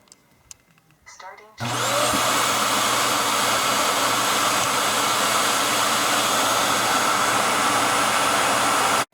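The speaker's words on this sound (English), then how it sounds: "hear what the base station sounds like when it's emptying the dust into the bin" A Yeedi Vac 2 Pro robot vacuum's base station emptying dust into its bin: after a few quiet bumps and clicks, a loud, steady roaring suction starts suddenly and holds, close and constant, until it cuts off at the end.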